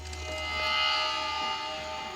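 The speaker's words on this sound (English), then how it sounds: "That's the sound of the lens pulling back to reveal a dangerous situation." A sustained, swelling whoosh with a dense tonal drone that rises and then eases off, like a dramatic cinematic zoom-out effect.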